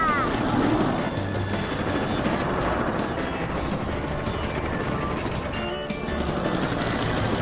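A helicopter's steady rotor drone fills the scene, with scattered clatter and bursts of voices over it.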